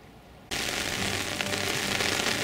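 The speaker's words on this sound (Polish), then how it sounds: "Pada jak jasny gwint." Heavy autumn rain suddenly begins pouring at a riverside feeder-fishing spot, turning quiet into a dense, loud, steady hiss of drops drumming on surfaces, with no talking.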